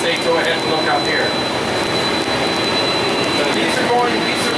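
A KLM jet airliner taxis toward the gate at Toronto Pearson airport, its steady engine roar filling the scene with a faint high whine on top, heard from nearby without a break.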